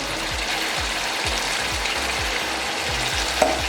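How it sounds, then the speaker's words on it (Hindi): Mutton korma frying in a pot with coriander powder and garam masala, a steady close sizzle with a rhythmic scraping stir repeating about every half second, no voices. "मज़ीद इसको 1 मिनट के लिए भून लेंगे।"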